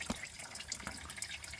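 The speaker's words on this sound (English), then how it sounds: "flush some diesel down through there." Diesel being flushed through the hydraulics of a Case 2590 Powershift tractor: faint liquid dripping and trickling with soft irregular splashes, quiet and close, with no talking.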